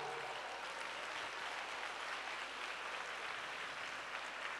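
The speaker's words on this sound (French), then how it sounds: "On peut les applaudir." An audience at an evening event claps steadily, a dense and even wash of applause from many hands that holds for the whole stretch without a break.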